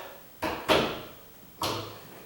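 A wet, freshly painted door swung back and forth on its screws, giving three separate soft knocks and creaks close by with no talk over them.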